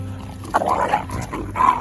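Several dogs bark in short, loud bursts close by at a rural farm during the wheat harvest, in two clusters with a brief lull between them and a steady low rumble underneath.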